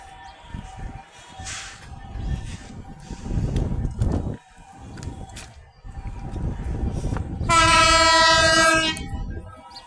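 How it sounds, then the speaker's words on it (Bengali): An Indian train pulls out of an old, crowded station, its wheels and carriages rumbling close by before a loud, sustained horn blast near the end, with faint crowd noise in the background. "এইমাত্র স্টেশন থেকে ছেড়ে যাচ্ছে ইন্ডিয়ান ট্রেন ছেড়ে যাচ্ছে"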